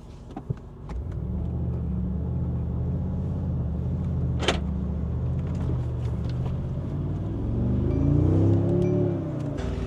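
A VAB military armored vehicle engine starts in desert sand and settles into a steady, loud, close diesel rumble that swells slightly in pitch and power near the end, with no talk.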